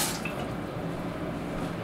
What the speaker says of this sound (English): And fill it full of water.